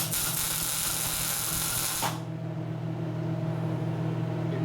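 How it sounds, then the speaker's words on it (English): Arc welding on the chassis of a 1942 Harley-Davidson WLC/WLA 45ci Liberator motorcycle: a loud, steady broadband hiss and buzz for about two seconds that then cuts off, leaving a low workshop hum. "Weld away."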